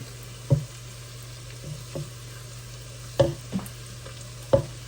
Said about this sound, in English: I'm gonna finish frying these this salted pork